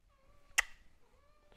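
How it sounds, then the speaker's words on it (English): Pet cats in a home give two faint, drawn-out meows a moment apart, broken by a single sharp click, in an otherwise quiet room. "I have to feed these little kitty cats"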